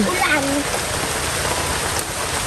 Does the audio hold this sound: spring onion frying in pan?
no